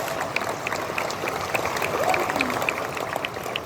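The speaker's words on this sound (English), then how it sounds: "Give yourselves a round of applause" A convention panel audience applauds itself. Moderately loud clapping comes from a crowd, with a faint voice under it, and the patter holds fairly steady throughout.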